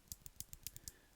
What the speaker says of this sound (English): they've made this mute jade, which is still kind of a clicky switch